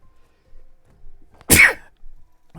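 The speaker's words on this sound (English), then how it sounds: "Good sneeze right there." One sharp, close sneeze bursts out of near silence, brief and alone, with only faint rustles around it.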